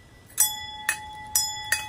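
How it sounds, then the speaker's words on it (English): A vintage trolley bell from SFC Co. struck by hand four times, each ring a bright metallic ding with a sustained shimmering tone that decays between strikes, close and clear. "vintage trolley bell that I'm playing around with"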